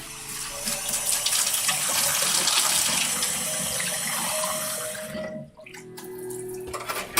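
Tap water runs steadily into a glass at a kitchen sink, a close, loud rushing stream that shifts slightly in pitch as it fills, then cuts off with a few drips and clinks.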